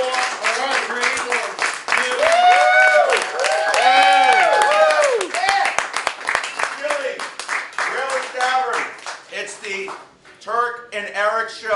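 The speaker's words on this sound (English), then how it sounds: "let's get some clapping" A live studio audience at a comedy talk show claps and whoops loudly, with voices shouting over the steady clapping for about twelve seconds before it thins out near the end.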